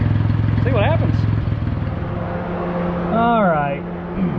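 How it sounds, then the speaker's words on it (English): A lawn mower engine running close by, its pitch rising and falling as it revs, with someone speaking over the engine. "we got the engine running as you saw"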